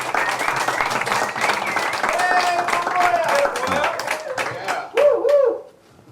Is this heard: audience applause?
yes